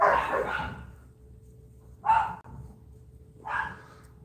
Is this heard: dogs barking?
yes